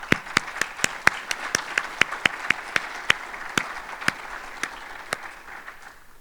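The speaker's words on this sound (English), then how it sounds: "Let's give them all a round of applause." Sparse, evenly spaced hand claps ring out in a civic State of the City gathering hosted by a regional chamber, about twenty distinct slaps over a quiet hall background, fading at the end.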